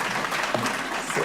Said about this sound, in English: and I think I deserve a clap.